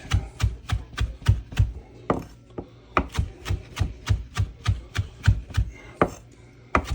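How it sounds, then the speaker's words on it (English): A kitchen knife rough chopping food on a cutting board, with steady repeated sharp thuds in an even rhythm, close and crisp, pausing briefly before carrying on. "rough chop it. Again and again, bring it together"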